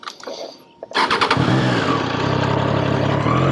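A 2023 Triumph Tiger 660 triple-cylinder motorcycle engine cranks with a brief whir, catches and fires up, then settles into a loud, close, throbbing idle with slight revving.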